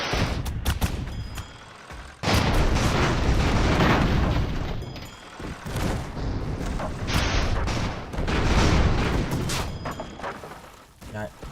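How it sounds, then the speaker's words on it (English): Bombs exploding in an airship video game, a series of loud, heavy booms and rumbling blasts that roll on almost continuously, with brief lulls between bursts. "Oh, they're all bombs."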